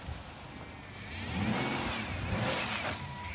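The engine of a cheap repaired car revs up, swelling from a steady hum into a louder, rising drone as it pulls away, close and continuous with no talking.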